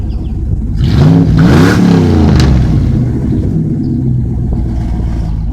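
A truck engine revs through a newly welded exhaust, rising from idle into a loud, throaty climb that peaks and falls back to a steady rumble, heard close by with no talking.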